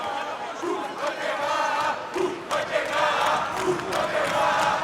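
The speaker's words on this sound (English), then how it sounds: "The crowd already getting excited over Mica Galvão's guard pull" A large arena crowd roars and cheers during a jiu-jitsu black belt lightweight final as a fighter pulls guard, a dense swelling wall of voices with shouts rising over it, and a commentator talking throughout.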